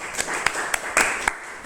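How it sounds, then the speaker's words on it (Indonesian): Short burst of classroom applause during a teaching practice lesson, several scattered claps close by. "Beri tepuk tangan untuk Nyoman Daud"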